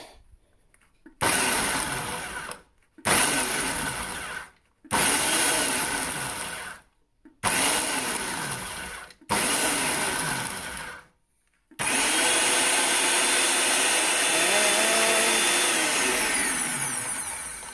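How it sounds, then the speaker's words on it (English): Kitchen blender blitzing roughly chopped garlic, jarred garlic and ginger for homemade hot chilli sauce, loud whirring in five short pulses and then one longer continuous run, close up with no speech. "see the garlic chopped up roughly because it's going to get blitzed now, and the lazy garlic in there, and the ginger all chopped up"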